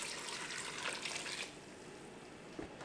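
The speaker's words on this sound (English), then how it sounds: "And then we're going to add some water." Water pours into a pot of potatoes and squash, a soft hissing rush that fades to a quieter trickle partway through, faint and with no voices.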